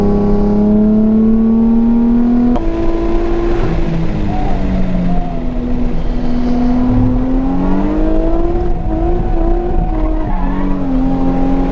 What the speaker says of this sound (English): Just a little casual drift at 85 miles an hour, sideways action.